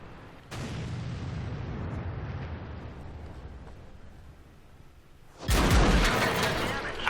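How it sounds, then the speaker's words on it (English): Artillery shells slam into a tank in World of Tanks, a heavy low boom rumbling on for several seconds, then a second loud, sharp blast near the end; a voice talks faintly beneath. "Again, got hit by the artillery"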